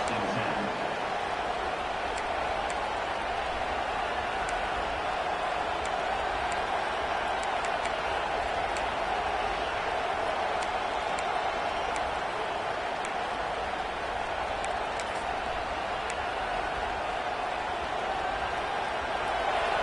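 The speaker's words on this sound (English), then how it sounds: "This crowd bringing the energy and noise early." Continuous stadium crowd roar in an American football video game fills the background at a steady level, with faint scattered cheers and a commentator's voice over it.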